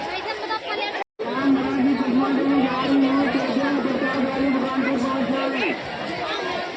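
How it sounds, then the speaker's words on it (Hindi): A large crowd chatters densely at a village temple during a parikrama where lamps and incense burn, a continuous close hubbub of many voices with a brief dropout near the start. "इतनी भीड़ है बहुत ज़्यादा।"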